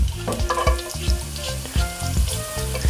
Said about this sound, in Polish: Teraz dodamy posiekany czosnek.